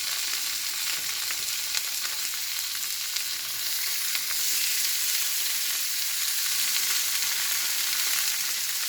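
Fish fries in a small pan, giving off a steady, bright sizzle and crackle of hot oil that goes on without pause and sits close, with no voices over it.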